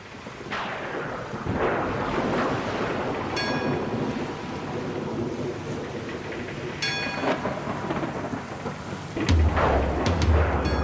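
Storm in a film scene: continuous heavy rain and surging sea wash with rolling thunder claps, loud and close, a deep rumbling boom near the end.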